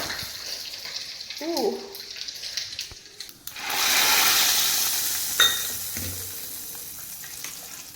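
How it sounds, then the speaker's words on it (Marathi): Oil sizzles in a pan for tempering sambar, with a loud, steady crackling hiss that starts suddenly a few seconds in, after a brief voice at the start. "याच्यामध्ये तेल टाक ना म्हणजे फोडणी टाक ना"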